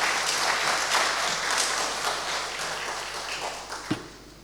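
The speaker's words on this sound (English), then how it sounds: "Please give Leontine a big round of applause." An audience gives a warm round of applause for a guest at a talk, with a dense, even patter of many hands that gradually tapers off, broken by a single louder knock near the end.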